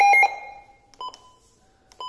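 Short electronic button beeps from a Midland WR-120 weather radio, a bright tone fading out and then two brief chirps spaced about a second apart, close and clear in a quiet room.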